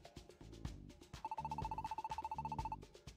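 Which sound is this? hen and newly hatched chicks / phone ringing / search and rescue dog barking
phone ringing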